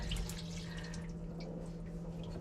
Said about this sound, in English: I turn the lever, and then I got the full shower.